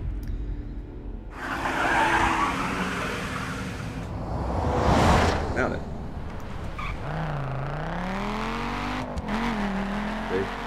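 A tuned car in The Crew racing game squeals its tires and revs with an altered turbo note, engine pitch swooping up and down through the stretch.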